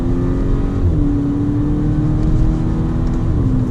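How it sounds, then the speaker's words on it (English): A 2012 Volkswagen Golf GTI 35 Edition accelerating under paddle shifts: a loud, steady engine drone with a rising then falling whine as the revs change, and exhaust crackle mixed into the close, continuous roar. "Really nice backfire sound."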